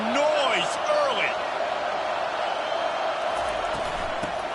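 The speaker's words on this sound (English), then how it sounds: "This crowd bringing the energy and noise early." Crowd noise filling a football stadium early in a game, a broad continuous roar heard at a distance, with a commentator's voice talking over it.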